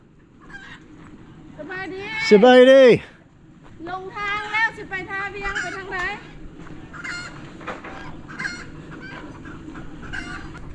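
Geese and other fowl honk and cluck beside a back road near Hmong villages. One loud, close honking burst comes early, followed by fainter calls under a voice.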